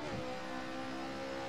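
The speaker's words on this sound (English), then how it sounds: "you can quickly blip the throttle and match the revs by that" In the Assetto Corsa racing game, a simulated car engine with an H-pattern gearbox gives a quick throttle blip, a brief rise in revs at the start, then settles into a steady mid-pitched drone.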